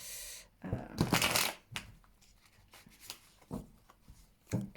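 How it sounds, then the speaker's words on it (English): A tarot deck shuffled by hand in quick, quiet bursts of riffling and card rubbing, close up, with short pauses between the shuffles. "I'm just going to do a really quick shuffle on camera as well"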